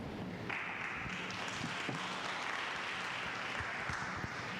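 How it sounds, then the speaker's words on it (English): Audience applause at a Red Bull Basement 2021 local selection pitch event, a steady broadband wash of many hands clapping continuously throughout, fairly loud and even with no talking over it. "a heartier clap for pedal power"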